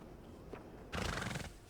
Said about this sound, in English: I have Dolly, which is I think the sturdy horse